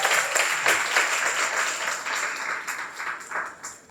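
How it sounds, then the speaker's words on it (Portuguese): A church congregation at a Sunday service claps, a fairly faint, uneven patter of many hands with pulsing accents, heard from a little distance. "Aplauda o Senhor pela equipe de mídia dessa igreja."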